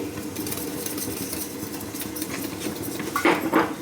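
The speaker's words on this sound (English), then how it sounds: "I just have a little whisk here to mix it" A small whisk stirs dosa batter thinned with water in a bowl, giving a soft continuous sloshing and light clinking against the sides, with a couple of louder scrapes near the end.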